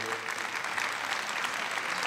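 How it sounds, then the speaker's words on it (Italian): A festival audience in Italy bursts into applause, dense clapping from a crowd sustained throughout at moderate volume. "questo hanno applaudito perché io ho detto becero di me"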